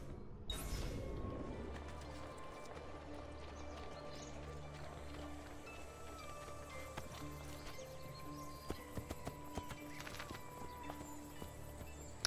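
A horse ridden in the video game Assassin's Creed 2, with steady clip-clop hoofbeats over a rumbling background and a few sharper knocks.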